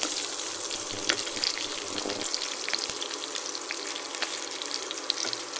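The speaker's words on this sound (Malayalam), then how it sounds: "നമ്മൾ ഇട്ട് കൊടുത്തത് വെളുത്തുള്ളി, ഇഞ്ചി, പച്ചമുളക്, ഗ്രാമ്പു," Garlic, ginger, green chili, cloves and fennel sizzle steadily in hot oil in a pan for a Kerala fried egg curry, a continuous close frying hiss with a few soft clinks and no talking.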